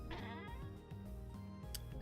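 A cat in the survival game Vintage Story gives a drawn-out, wavering meow, loud and close over a droning background of game music.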